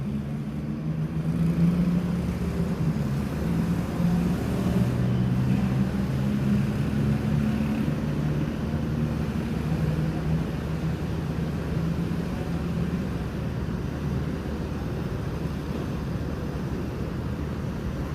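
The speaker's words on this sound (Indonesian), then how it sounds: "Lorena pakai Jetbus 2 air suspension sasis Mercy OH 1626 mau ke Pekanbaru." A Lorena Jetbus 2 coach on a Mercedes OH 1626 air suspension chassis idles at Palembang terminal in the morning, a steady low engine drone under a soft wash of background noise.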